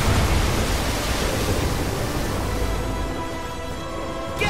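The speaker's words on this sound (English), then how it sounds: "we're gonna end it off with a tidal wave" A tidal wave attack in the Kingdom Hearts 3 video game makes a dense, rushing roar like surging water, loud and continuous for about four seconds before easing slightly.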